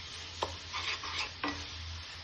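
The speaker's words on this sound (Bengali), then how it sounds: "1-2 মিনিটের মতো ভেজে নেব মশলাটা।" Masala spices frying gently in a pan over low gas, ahead of eggs going in for anda bhujia; a quiet steady sizzle with two sharp stirring scrapes and soft clinks of the spatula.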